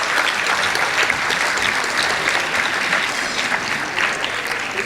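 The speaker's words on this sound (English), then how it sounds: "Please give them a big round of applause." Parents and audience applaud children at a school annual day event; loud, dense, continuous clapping from a large crowd, steady throughout with no voices over it.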